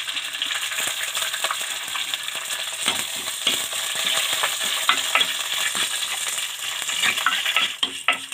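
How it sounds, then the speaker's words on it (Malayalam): Moringa leaves and curry leaves sauté in a pan, giving a steady close sizzle with repeated scraping and stirring clicks throughout. "അപ്പോൾ നമ്മൾ മുരിങ്ങയില നന്നായിട്ട് വഴറ്റി മൂപ്പിക്കാം. അതിൻ്റെ കൂടെ വേപ്പില കൂടെ ഇട്ട് കൊടുക്കാം."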